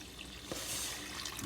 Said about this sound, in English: into this we're going to put 1 1/2 cups of water